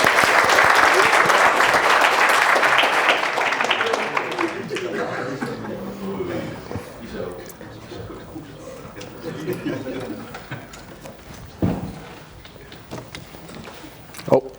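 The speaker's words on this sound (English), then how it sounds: "And give a warm applause to Sander." Meetup audience applauding a speaker about to give a Laravel talk, loud dense clapping for about four seconds that tapers off, followed by someone speaking over some lingering claps and room noise.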